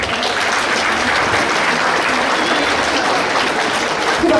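An audience at a school prom applauds steadily, a dense even patter of clapping that holds at the same level throughout with no voices.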